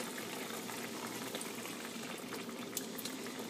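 Sauce poured in a circle into mapo tofu cooking in a pan gives a steady, close sizzling bubble, a continuous liquid hiss with no clear break across the moment.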